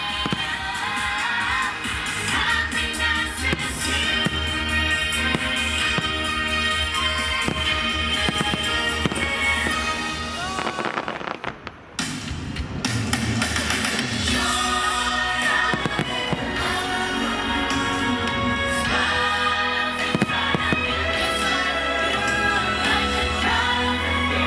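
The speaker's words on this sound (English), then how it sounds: "here's some highlights over the next few minutes of the nighttime fireworks show here at Tokyo Disneyland" Nighttime fireworks show Happiness on High at Tokyo Disneyland, with loud bursts and crackles over a continuous bed of show music and crowd noise, briefly dropping out near the middle before resuming.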